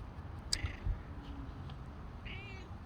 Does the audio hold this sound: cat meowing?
yes